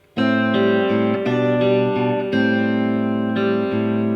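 Electric guitar playing a bar of a riff, slow and deliberate: distorted chords struck one after another in a steady rhythm, each ringing out with sustain, played alone without talk.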